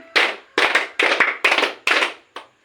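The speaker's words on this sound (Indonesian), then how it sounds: "5 kali tepuk tangan" Roughly five loud unison claps from a group at a village PKK counselling game session land at an even pace, followed by a faint straggling clap at the end.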